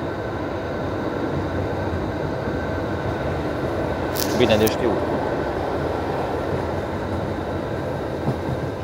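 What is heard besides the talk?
MAV compartment passenger train running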